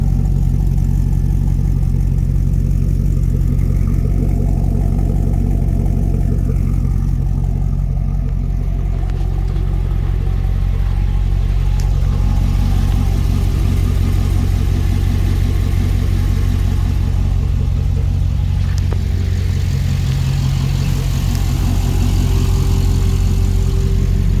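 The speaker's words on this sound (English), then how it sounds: "The engine's super quiet mechanically. This phone picks up all kinds of weird stuff. The exhaust sounds really good, awesome." An engine-swapped truck idles close by, its exhaust giving a steady, deep, even rumble with faint mechanical clatter, unbroken throughout.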